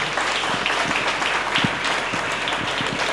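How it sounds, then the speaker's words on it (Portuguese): An audience applauds colleagues at an anniversary event for an architecture course in Brazil, a dense, even patter of many hands clapping at a steady level throughout, with no talking. "Eu queria pedir uma salva de palmas para todos os colegas que estão aqui"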